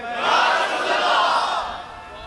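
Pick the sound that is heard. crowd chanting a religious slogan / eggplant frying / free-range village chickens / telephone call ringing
crowd chanting a religious slogan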